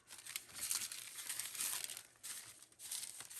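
Tim Holtz tissue paper crinkles and rustles as hands handle it, with soft, close bursts of crumpling that start and stop over a few seconds in a quiet room.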